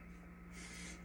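A person sneezes once, a short, breathy, spray-like burst midway through, faint and close with no talking around it.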